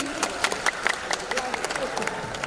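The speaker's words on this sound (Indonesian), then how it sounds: "Tepuk tangan sekali lagi." Audience applause at Big Fair Bali 2025, scattered claps rising and falling over a few seconds, with a person's voice mixed in.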